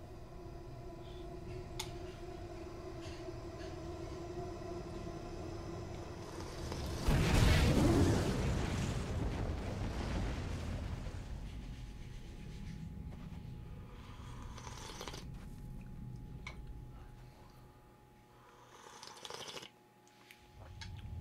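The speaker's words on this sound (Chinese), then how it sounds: "我靠，爆炸了！" In Elden Ring, a big meteor explosion roars up after several seconds of low ambient rumble and swells loud and broad, then slowly fades over a long tail into quieter game sound, with no talk over it.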